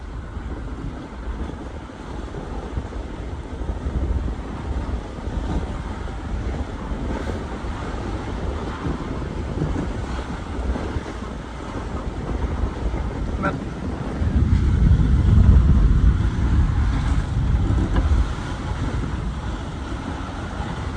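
Steady wind noise and sloshing water around a heeled sailboat under mainsail near Nassau, a constant broadband rush with a louder surge of water and buffeting toward the end.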